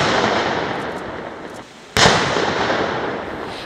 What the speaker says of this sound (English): accorded full military honors, including a 21-gun salute.